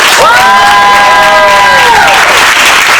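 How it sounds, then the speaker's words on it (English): An outdoor summer Zumba fundraising party crowd claps and cheers loudly in the rain, a dense continuous burst of applause with a whistle or whoop rising over it. "Please, let me hear you give a big clap for Janet."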